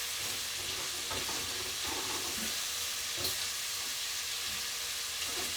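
Chipotle shrimp sizzle in a hot pan for tacos, a continuous, even frying hiss close by with faint occasional pops and no talking.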